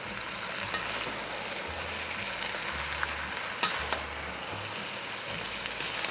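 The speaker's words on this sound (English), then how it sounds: "Give everything a stir." Garlic paste and vegetables cooking in a soup pot sizzle steadily while being stirred, a dense hiss with occasional soft scrapes and one sharper knock, close up and without speech.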